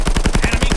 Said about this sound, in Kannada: machine gun ಹಿಡ್ಕೊಂಬೋಗ್ಬಿಟ್ಟಾನೆ